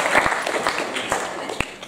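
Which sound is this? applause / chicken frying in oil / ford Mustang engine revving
applause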